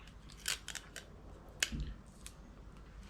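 Sticky tape pieces are torn and cut for making paper rockets, heard as a few close, crisp snips and crackles scattered across a few seconds, with a soft thump in between and no talking.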